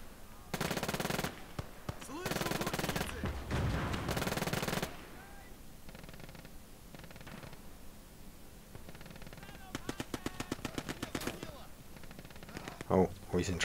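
A machine gun nest in the strategy video game Gates of Hell rattles off several bursts of rapid automatic fire, a few long ones early and shorter clipped bursts later, with faint battlefield noise and low talk between them.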